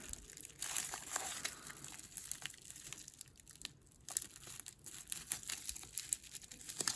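Blade slicing open the top of a mailed package of Japanese Pokemon cards, a close, steady run of crinkling, crunching and tearing wrapper noise with brief pauses and no talking.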